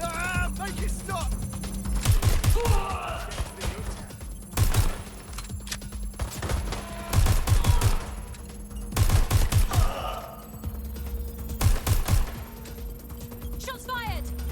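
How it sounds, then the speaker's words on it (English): Gunfire in the video game Watch Dogs Legion, with bursts of rapid shots in several clusters between quieter stretches, mixed with mechanical clicks and a steady background hum, and voices talking intermittently. "Shots fired!"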